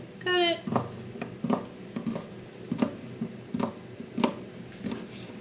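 A knife slices through smoked sausage on a cutting board, a series of soft, evenly spaced thuds and taps, close and fairly quiet, with a brief squeak at the start.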